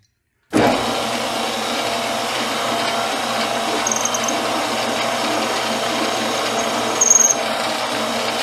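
A lathe cutting a tiny chamfer on the end of a custom camera cage screw: a steady, close mechanical whir that starts abruptly and holds evenly, with a brief higher squeal of the tool near the end.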